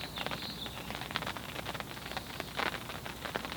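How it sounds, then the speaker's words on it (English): Light rain beginning to fall at a fishery pond during tench fishing, a faint, steady patter of drops with occasional brief louder taps, no talk. "It's just starting to rain again."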